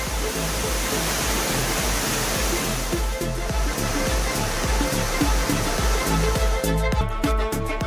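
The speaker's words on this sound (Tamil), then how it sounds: "கோவை மாவட்டம் ஆழியார் கவியருவியில் வெள்ளப்பெருக்கு ஏற்பட்டுள்ளது" Flooding Kaviaruvi falls at Aliyar, Coimbatore, a loud, steady roar of heavy water pouring down with constant rushing spray, no voices over it.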